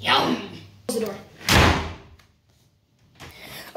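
A house door swings shut in a couple of solid thuds and slams, with people talking around it.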